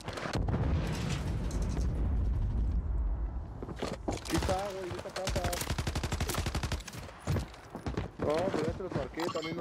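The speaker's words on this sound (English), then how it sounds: "That's a fucking grenade." Gunfire crackles in rapid bursts with a heavy grenade-like blast during a Call of Duty Warzone match, dense and loud throughout, with a voice speaking over it at times.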